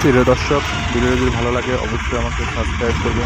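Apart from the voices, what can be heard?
Tata Intra V10 engine running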